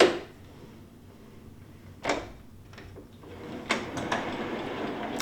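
A sliding bathroom door in a standard room at Disney's Pop Century resort in Orlando, with no soft close, rolls along its track. Soft scraping runs in bursts, then a clack and a few knocks follow as it shuts, fairly close.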